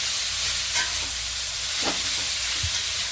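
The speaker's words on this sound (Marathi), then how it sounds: "त्याच्यातच हा किसलेला गाजराचा पीस टाकून देऊ आणि याला छान असं हलवून देऊ" Grated carrot being stirred in hot ghee, a steady broadband sizzle with a few soft scrapes of the spoon against the pan, close up and without any talking.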